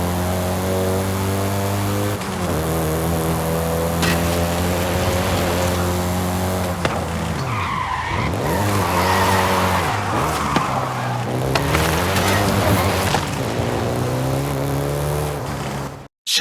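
A Volkswagen Golf GTI in the Forza Horizon 5 racing game holds a loud, steady engine drone that shifts pitch up and down, with prolonged tire squeal and skidding sweeps in the middle and no voices.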